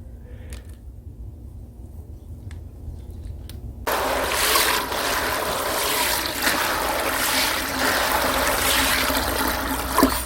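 Water poured off soaking soybeans during traditional meju making, a faint trickle at first that turns abruptly into a steady, fuller rush of running, splashing water, close by.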